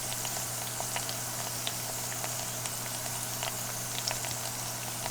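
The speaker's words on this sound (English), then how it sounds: "My water is boiling for my sweet potatoes" Water boils in a cooking pot for sweet potatoes, a steady bubbling simmer with small pops and crackles, moderately quiet and continuous with no talking.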